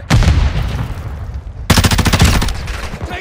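Rapid automatic gunfire from a Call of Duty Modern Warfare 2 multiplayer deathmatch, loud close bursts of fast repeating shots, a short pause, then a second dense volley with crisp cracks.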